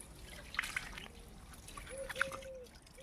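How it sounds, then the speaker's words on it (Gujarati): Water runs from a tap at a Hanuman temple as a faint, steady trickle, with a few brief high chirps over the quiet flow. "તમે જોઈ લો આ પાણી ચાલુ છે"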